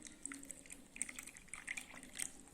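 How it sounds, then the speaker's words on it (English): Water poured into a cup, a quiet, uneven trickle with small splashes and drips scattered across a few seconds, close but soft. "you have to put some water in it."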